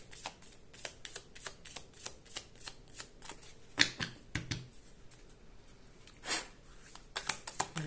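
A Maria Padilha card deck is shuffled by hand in a quiet room, with a close series of rapid riffling bursts and snapping flicks spread across the whole stretch, no talking.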